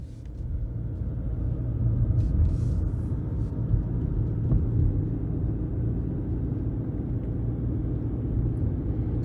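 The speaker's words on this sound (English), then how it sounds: "take this 2023 Maverick XL Hybrid out on the road for a quick test drive" Steady low road rumble and drivetrain hum heard from inside a 2023 Ford Maverick XL Hybrid pickup cruising on the road, continuous and moderately loud with no talk.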